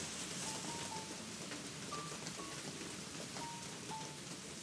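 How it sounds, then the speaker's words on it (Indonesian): Heavy rain pours down steadily at night, a dense constant hiss of drops with a few faint distant tones and no talk. "Sementara hujan masih cukup deras ya."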